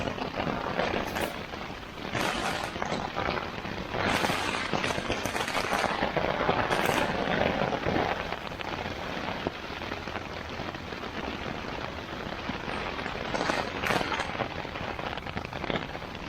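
Steady rain patters on a taut tarp close by during a thunderstorm, a continuous drumming hiss with occasional heavier bursts of drops.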